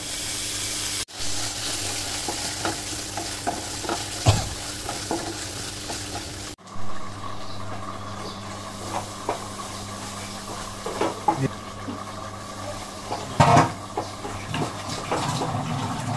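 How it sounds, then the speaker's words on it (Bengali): Small shrimp fry in a spiced masala for a bottle gourd dish, a steady loud sizzle with a spoon scraping and stirring the pan at intervals, no speech. "ও আমার মশলা কষানো হয়ে গেছে, এখন গুঁড়ো চিংড়িগুলো দিয়ে দিব।"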